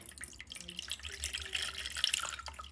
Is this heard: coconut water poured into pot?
yes